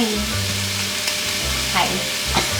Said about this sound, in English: in my cast iron skillet, I'm gonna add a pound of sausage.